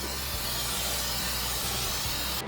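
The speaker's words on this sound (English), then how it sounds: "Then we'll spray the top." A steady, continuous hiss of aerosol cooking spray sprayed onto the top of a Z Grills grill, lasting the whole stretch, close and fairly loud, with no talking.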